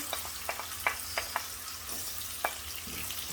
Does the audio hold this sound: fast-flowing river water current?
no